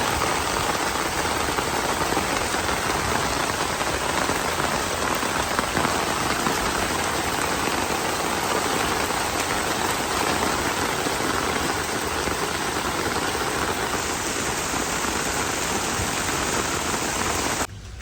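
Heavy rain pours down steadily and close by in rural Bangladesh during the rainy season, a dense unbroken hiss on surfaces that continues for the full length without voices.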